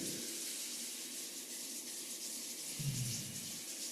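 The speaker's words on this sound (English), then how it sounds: "Rub the palms together and breathe." Palms rub together with a soft, steady, breathy friction hiss that stays close and quiet throughout, ending in a brief low thump near the end, with no talking.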